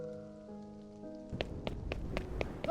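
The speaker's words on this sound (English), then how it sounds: "The incessant pitter-patter of rain gets on my nerves." Rain pattering in the video game Love and Deepspace, a soft run of scattered drops that begins after a quiet tonal passage and continues faintly to the end.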